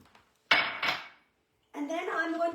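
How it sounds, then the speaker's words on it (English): Almonds are tipped into a blender with a hard clattering rattle, two quick bursts close up, followed by a short pause and some brief knocking. "add all my almonds to the blender."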